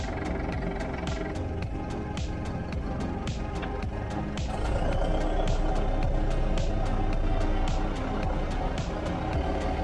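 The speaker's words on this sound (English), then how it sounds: "we're going for a first little car park test drive" A car fitted with an LT95 gearbox rolls slowly across a car park with no floor in it, giving a low steady engine drone with rattles and clunks that grows slightly louder midway, and no talk.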